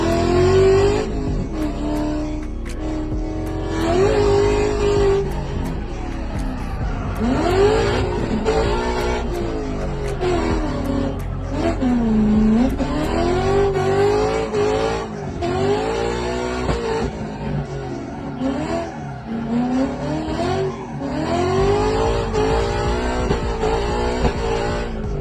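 A Ford Mustang S550 sports car engine revs hard and continuously while drifting, rising and falling in pitch with bursts of tire squeal, loud and close throughout.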